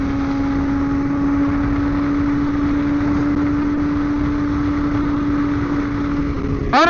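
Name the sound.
BMW S1000RR motorcycle engine while riding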